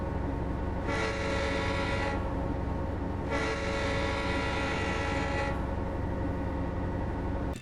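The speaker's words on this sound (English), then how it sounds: "That's my honk." Two long, loud blasts of a Great Northern F7 diesel locomotive's horn in Train Simulator 2021 sound over a constant rumble of engine and rails, the second blast longer than the first.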